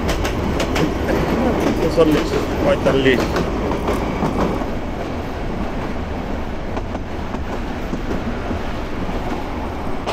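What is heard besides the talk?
Hawr Express passenger train running on rails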